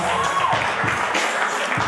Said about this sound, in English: give them all a round of applause for coming out